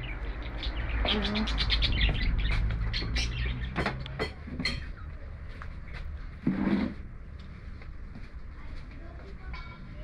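Birds chirp in quick bursts over a rumbling background, with a few brief calls standing out near the start and middle.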